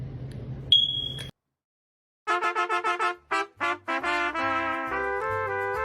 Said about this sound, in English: Smoke detector just going off.